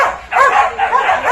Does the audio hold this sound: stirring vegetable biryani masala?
no